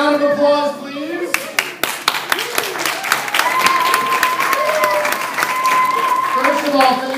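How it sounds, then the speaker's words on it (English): Audience clapping as a band is brought on at a rock concert, sharp claps scattered and building into steady applause while a voice speaks over the start and again near the end. "A round of applause, please."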